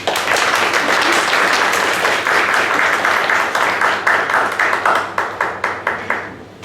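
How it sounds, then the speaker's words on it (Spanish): A seated audience at a municipal governance forum gives a full round of welcoming applause for a speaker, dense and steady, then thinning into a few scattered claps that fade out. "Por favor, demos un aplauso de bienvenida al maestro Miguel Ángel López Vargas."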